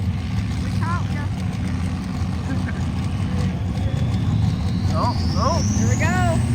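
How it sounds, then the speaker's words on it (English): Turbo of a twin-turbo Duramax diesel truck pulling a sled down a track, a steady loud diesel drone with a rising turbo whistle late in the clip, under excited voices talking. "Listen to that turbo right there."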